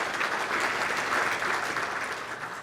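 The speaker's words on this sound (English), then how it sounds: "let's give Bob and the foundation another round of applause." An audience at a University of Illinois event marking a $1M scholarship gift claps in a dense, steady round of applause that fills the whole stretch with no voices on top.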